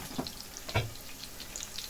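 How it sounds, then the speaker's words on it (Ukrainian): Chicken cutlets fry in a pan, giving a soft, steady sizzle with a few faint crackles and pops. The sound stays low and close throughout, with no talking. "накриваю кришечкою і так смажемо всі"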